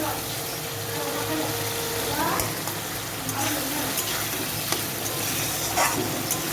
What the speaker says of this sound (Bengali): শাকটা যে সিদ্ধ করে রেখেছি ওটা দিয়ে একটু নেড়ে অল্প একটু জল দেবো